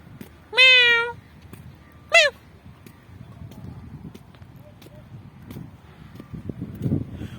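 A cat gives two distinct meows, the first longer and louder, the second short, heard close by over faint wind and background rumble.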